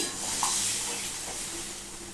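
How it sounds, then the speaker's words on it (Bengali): Water poured into a pan where boal fish cooks in hot oil, a loud burst of sizzling and steam hiss with stirring that gradually settles, close and continuous. "এখানে একটু জল দিয়ে দিলাম"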